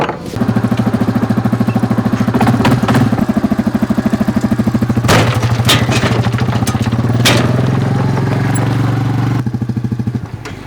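ATV engine running on an Alaskan trail, a close, loud, chugging motor with rapid rhythmic pulsing and occasional rattles and clatter, holding steady before easing off at the very end.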